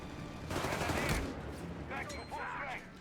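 In the Company of Heroes 3 video game, Browning light machine guns rattle in rapid bursts amid battle noise, with a commentator talking over the gunfire.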